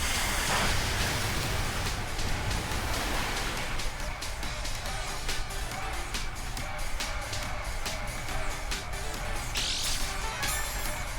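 Rain weather effect in Pokémon Shield, a continuous hiss of falling rain with scattered sharper patters and crackles, steady and fairly quiet throughout.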